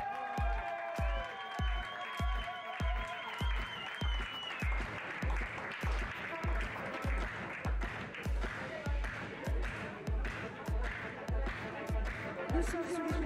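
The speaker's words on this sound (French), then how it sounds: "Mesdames et messieurs, je vous demanderai d'applaudir comme ce soir ceux qui vont monter sur une marche" Audience at a Western pony horsemanship award ceremony applauding medal winners: sustained crowd clapping with a regular rhythmic thump underneath and a musical tone fading early on.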